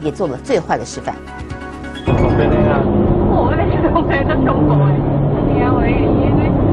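Supercars racing at over 200 km/h on a national highway. After a reporter's voice, a loud, dense roar of high-revving engines and road rush takes over and continues steadily to the end.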